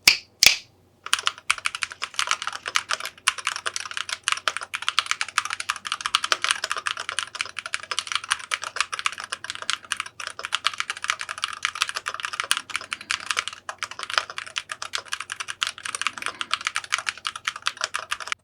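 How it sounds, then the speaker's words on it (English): Typing on a Chronos 68 rapid-trigger keyboard fitted with Poron and IXPE foam and double-shot PBT keycaps: a steady, dense stream of soft, creamy keystrokes, close and alone for most of the run after a couple of opening clacks. "So let's check how this keyboard may sound."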